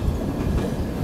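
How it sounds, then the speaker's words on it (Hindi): Sampark Kranti Express train crossing over onto another track at a switch, with loud, close wheel rumble and rapid clattering over the rail joints, steady throughout and with no talk. "वहाँ देखिए अब गाड़ी कैसे पूरी गाड़ी एकदम कट रही है, ट्रैक ही पूरा छोड़ के दूसरे ट्रैक पर आ रही है"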